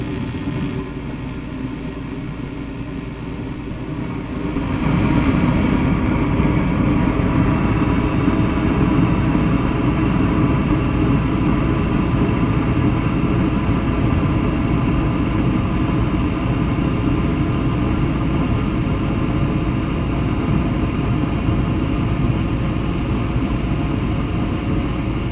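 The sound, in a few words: Mr. Heater Big Maxx heater fan running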